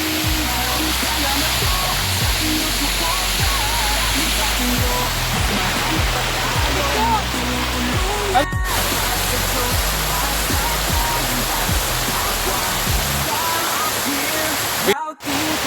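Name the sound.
waterfall at Encanto Falls resort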